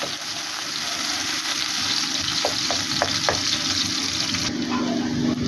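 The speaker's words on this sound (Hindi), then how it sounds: "यहाँ पर दोस्तों प्याज को लाइटली मैंने भून लिया है" Onions frying lightly in ghee for a potato and egg dish give a steady close sizzle with a few sharp crackles, and a spoon stirs now and then.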